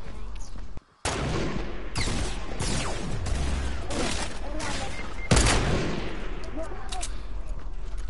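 Grenade explosions in a shooter video game, with loud, dense blasts and gunfire repeating across the whole stretch under a constant roar of battle. The sound cuts out for a moment near the start, and a heavy boom hits past five seconds.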